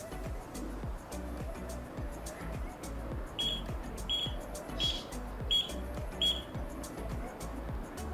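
An Arduino gas sensor alarm buzzer in a fire and smoke alarm project gives several short, sharp beeps during a gas leakage test, sounding over a steady, noisy background hum.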